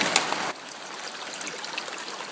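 Creek water flows steadily through a forest, a soft continuous trickling wash with light gurgles, heard alone at moderate level after a brief louder rush at the start.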